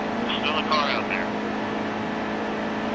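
Truck engines racing at Daytona in NASCAR Heat 2, a steady droning roar of several engines throughout, with a voice speaking briefly over it.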